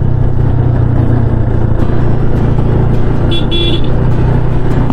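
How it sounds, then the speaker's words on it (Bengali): Busy road traffic in the Kolkata area heard from a motorbike, a loud continuous engine and road rumble with a brief car horn toot near the end. "আবার এখানেও ট্রাফিক আছে।"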